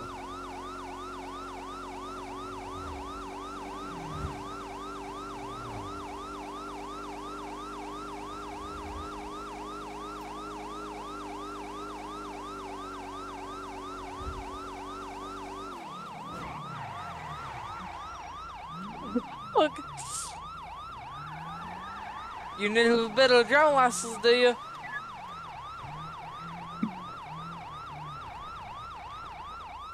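Police car sirens wail loud and steady in a rising and falling cycle, then cut out halfway. Engine hum and radio chatter carry on beneath, with sharp clunks and a brief voice near the end.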